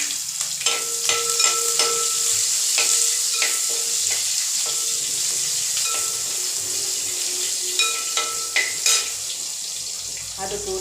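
Curry leaves and chopped onion frying in a pan for egg curry, a steady close sizzle broken by sharp crackles and spatters throughout, with a brief spoken phrase.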